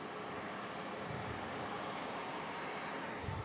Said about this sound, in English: this is an 800, 737-800